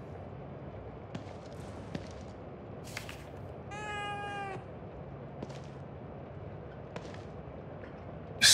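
A cat meows once, clearly and briefly, in the horror game The Evil Within 2, set against a quiet ambient background with a few faint scattered ticks and knocks.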